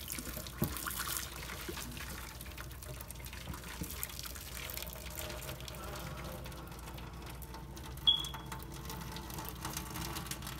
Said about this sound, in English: I'm pouring the water out since they're kind of soft.